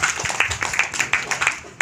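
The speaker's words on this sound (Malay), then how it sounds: "Bagi tepukan kepada ibu bapa." A seminar audience gives a short burst of applause for the parents, scattered claps rising and falling in quick pulses at moderate distance.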